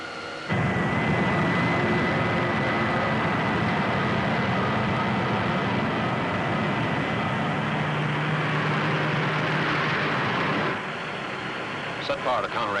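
A steady, loud roaring rumble from a spaceship engine sound effect in a 1955 science-fiction serial plays as the ship turns, holding constant for about ten seconds before dropping off, with voices briefly over it.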